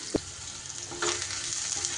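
Onion and green chillies frying in rice bran oil: a knock as they go into the pan, then a steady crackling sizzle that swells and holds, close and moderately loud.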